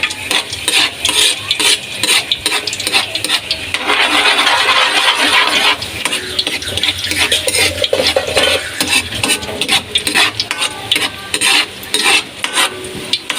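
A spoon scrapes and clatters briskly around a metal cooking pot of frying food over a light sizzle, with irregular close knocks and stirring strokes throughout and no voices.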